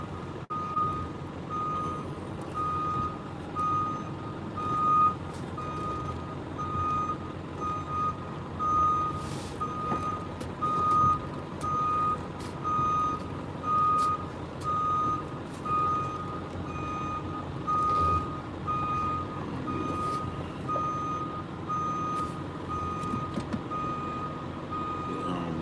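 A truck's backup alarm beeps steadily and loudly at close range as the truck reverses into a tight spot among other trucks, with a low engine rumble running underneath throughout.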